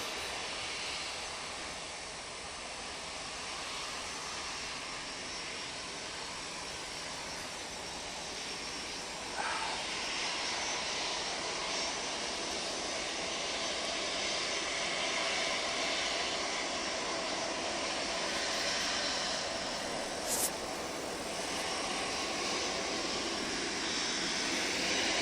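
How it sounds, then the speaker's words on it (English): An Airbus A380 at Manchester Airport produces a broad, steady jet roar heard from a distance, a constant hissing rumble that slowly swells over the span with no voices. "Airbus A380 destination Pisa."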